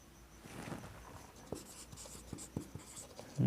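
A pen scratching out numbers in a notebook during a Class 6 maths lesson, with a run of short, close, quiet strokes and taps and a louder knock at the very end.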